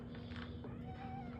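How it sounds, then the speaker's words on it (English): A calico cat gives a soft, drawn-out meow while asking for treats, heard close but faint over a low background hum. "Oh, now you're starting to sound so sweet. Is that a please? Oh, that's a right meow."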